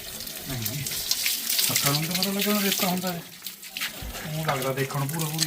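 Tap water runs steadily while a car is washed outdoors, heard under continuous close talking.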